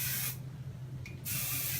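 An aerosol hairspray hisses in two close bursts, with a brief pause between them.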